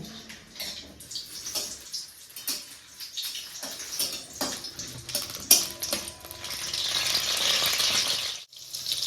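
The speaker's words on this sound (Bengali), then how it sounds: "লঙ্কাটাকে একটু ভালো করে ভেজে নেবো" Dried and green chillies fry in hot oil in a wok, giving a close, steady sizzle that swells into louder, denser spitting toward the end, with a few clatters of stirring.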